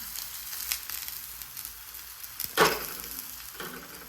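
Thalipattu fries in oil in a pan, with a steady close sizzle, a sharper burst of crackling partway through and a smaller flare near the end, and no talking.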